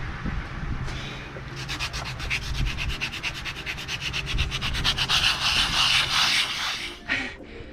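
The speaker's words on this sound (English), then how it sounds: "Just a little bit of sanding," Steady back-and-forth sanding on wood, a rhythmic rasping scrape that speeds into quick even strokes, close and fairly loud, then stops abruptly.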